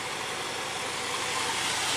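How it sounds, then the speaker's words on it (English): Small engine on a freshly adjusted carburetor with the mixture screw backed out, idling very low and rough in a steady, close, even drone with no talking. "I got the screw back out there, barely running."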